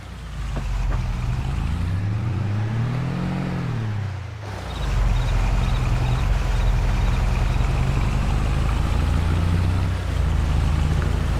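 A truck in Farming Simulator 22, heard from the first-person cab, gives a steady low engine drone that rises and falls in pitch as it revs, then settles into a louder constant hum.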